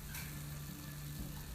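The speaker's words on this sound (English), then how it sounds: "Sizzling. All that butter." Butter sizzling in a pan under Gruyere French toast, a steady, faint crackling hiss with a low hum beneath it.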